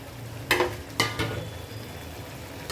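Medium potatoes tumbled into a pan of simmering country chicken curry and stirred, giving two sharp clattering knocks over a faint steady sizzle, then quieter scraping.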